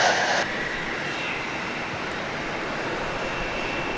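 A JSX jet aircraft that has just landed at Dallas Love Field, after a flight from Opa-locka near Miami, gives off a steady broadband engine roar at moderate distance, with a brief louder burst at the start.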